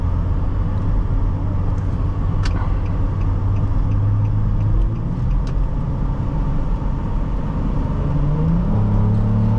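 A 2009 Nissan Quest 3.5 S minivan's engine accelerates from inside the cabin, a continuous loud rumble with rising tones as it pulls through the revs.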